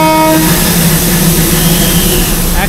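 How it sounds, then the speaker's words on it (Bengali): A Darjeeling toy train's steam locomotive sounds a short horn blast at the start, then a loud, steady railway rumble and hiss carries on at close range. "আর ওই সাইড থেকে হর্ন দিচ্ছে ট্রেন"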